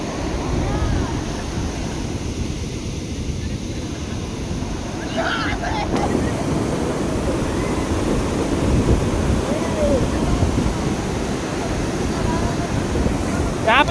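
Ocean surf rolls onto Udupi beach in a continuous loud wash of breaking waves, mixed with gusty wind buffeting the microphone, with a person talking over it at times.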